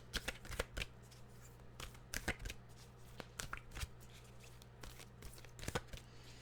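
Tarot cards are shuffled close up, a rapid series of crisp riffling bursts and soft slaps repeating irregularly over several seconds, quiet with no speech.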